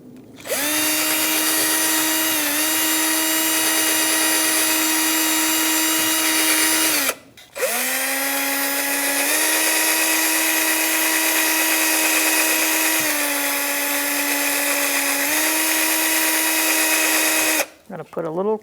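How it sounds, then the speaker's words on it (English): A power drill spinning a wire brush whines steadily at high speed while cleaning a brake caliper bracket on a Chrysler 300, with a brief stop midway and another stop near the end. "To do that, I'm using a brush on a drill."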